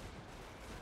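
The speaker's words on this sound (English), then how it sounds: "Gunshots. Small arms fire. It sounds close." Continuous dense gunfire from the video game Warhammer 40K: Space Marine 2, a steady rattle of small-arms shots blending into a loud broadband roar throughout.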